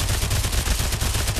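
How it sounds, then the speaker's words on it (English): Rapid, continuous Uzi submachine-gun fire from the Pavlov shooter game. The bursts are dense, loud and close, with no pauses for about a second and a half. "Then you got the Uzis."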